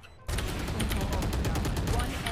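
Rapid bursts of Vandal rifle fire in Valorant start abruptly and hammer on in a dense, loud, continuous volley of shots with voices faintly underneath.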